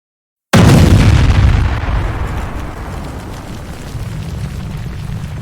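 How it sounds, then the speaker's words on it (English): A single loud, sudden boom standing in for the Krakatoa volcanic eruption, followed by a long rumbling decay that fades slowly but stays present to the end, with no talk over it. "It produced a loud, booming sound that could be heard as far away as Madagascar"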